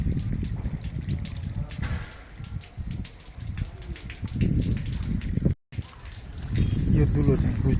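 Close, steady splashing of a small waterfall spilling near stone stairs, a constant gushing flow that runs under a voice, with a brief dropout partway through.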